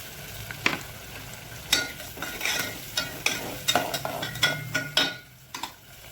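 Ground masala paste for misal frying and being stirred in a pan: a steady sizzle with repeated scraping, clinking stirs at an uneven rhythm, close and fairly quiet, with no voices.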